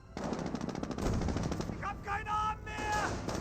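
Rapid automatic fire and impacts from a T-17 armored car in a Company of Heroes battle, a dense rattling burst running through the whole stretch with a few tonal whines near the end, loud and close.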